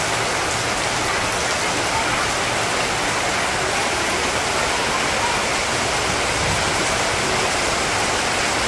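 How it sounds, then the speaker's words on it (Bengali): Heavy rain pours down outside a Bangladeshi village home, a loud, unbroken roar of water drumming on surfaces with no pauses and no voices. "দেখেন বৃষ্টির অবস্থা, খুব ভয়াবহ বৃষ্টি।"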